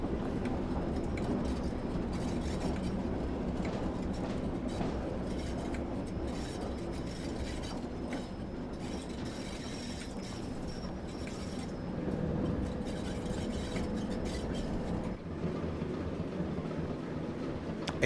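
A locomotive engine running in the Train Sim World 2 game on the Tees Valley Line, a continuous mechanical drone with rattling and clanking that stays steady throughout.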